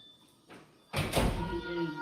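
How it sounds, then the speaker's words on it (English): An indoor door is pulled shut, giving one close, solid thud with a short rumble after it, followed by quieter room noise. "Just shut the door."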